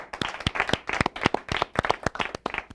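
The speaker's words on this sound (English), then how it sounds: "Let's give him a huge round of applause" An audience at a live TV debate show applauds, a close, steady burst of many hands clapping with no pauses.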